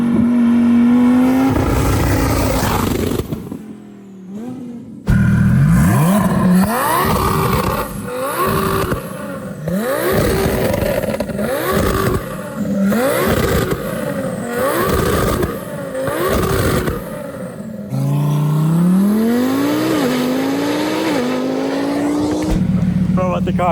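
A twin-turbo Lamborghini Huracan Performante of about 1,800 hp with aggressive anti-lag accelerates hard on the German Autobahn, its loud engine climbing through repeated gear changes with crackling bursts between shifts, heard from inside the car.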